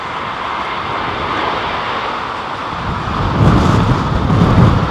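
Airliner on approach to land in strong storm winds at London Heathrow, a rumbling engine roar mixed with gusting wind that swells louder in the last couple of seconds.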